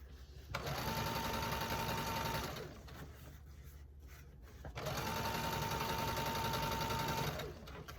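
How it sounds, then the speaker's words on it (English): A sewing machine stitches a fabric scrunchie in two long steady runs, each a loud close whirring buzz that ramps up, holds, then slows, with a quieter pause between them. "continue to sew, making sure you do not sew any pieces of what's in the middle"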